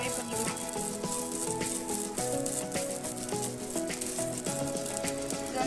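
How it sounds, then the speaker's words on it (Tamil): Grated coconut for a Kerala-style fish curry frying in a pan, a steady loud sizzle with faint rattling scrapes from stirring throughout, no voices. "அது கொஞ்சம் ட்ரை ஆகுற வரைக்கும் அதை வந்து நம்ம நல்லா இப்படி ஃப்ரை பண்ணிக்கலாம்."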